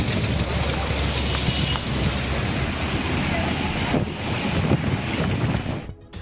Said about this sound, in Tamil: பலத்த காற்றுடன் தூசி சுழன்றடித்ததால்